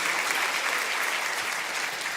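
An audience at a church event applauds its helpers, a broad, even roar of many hands clapping, loud and sustained without pause or voices.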